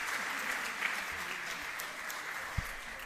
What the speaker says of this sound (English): So I would like to reinforce the applause for her for that wonderful job.